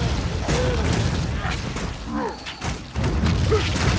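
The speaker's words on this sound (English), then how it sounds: "Yeah. Explosions." Booming explosions from combat in the action role-playing video game Torchlight II, a series of heavy thuds and blasts layered over game sound effects.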